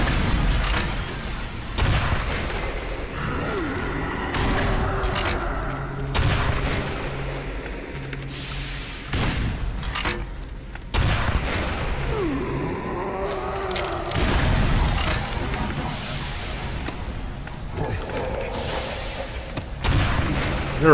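Rocket blasts in the Black Mesa: Xen video game, a series of heavy booms and explosions spaced through the stretch, loud and sharp, mixed with mechanical clanks and shattering debris.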